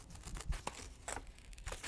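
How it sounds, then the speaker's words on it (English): Scissors snip through magazine paper close up and softly, in irregular crisp cuts and rustles with quiet pauses between. "hopefully you are enjoying the sound of the scissors doing what scissors do"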